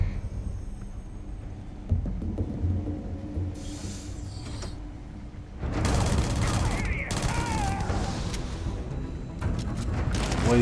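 Gunfire rings out in the video game Starfield, with rapid bursts and mechanical clicks from the weapons. The shots sound over background game noise while people talk.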